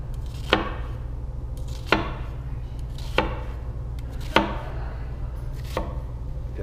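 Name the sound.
knife cutting an onion vertically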